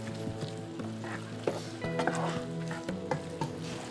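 Scrambled eggs are stirred into low-carb fried rice in a hot pan, steady sizzling and frying with repeated scraping and clicking of the utensil against the pan, close and fairly quiet.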